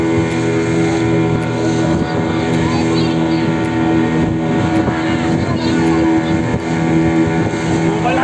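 A motorboat engine drones steadily and loudly at sea with wind buffeting the microphone, its tone slowed, while people talk over it throughout.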